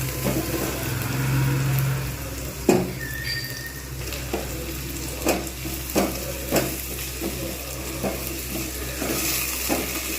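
Tomatoes and onion fry together in a pan for a Bengali pabda fish curry. They give a steady sizzle, broken by a few clinks and scrapes of a utensil stirring against the pan, with no voice over it.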